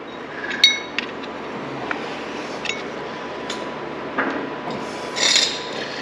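A screwdriver works on a KTM hybrid motorcycle, giving close, scattered scraping and ratcheting clicks with a few small metallic clinks against a quiet background.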